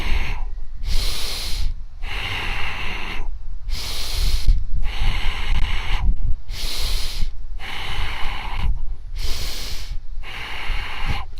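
Repeated loud inhalations during a seated breathing exercise, about six sharp, snort-like breaths in at a steady rhythm, each separated by a brief pause, close up with no talk.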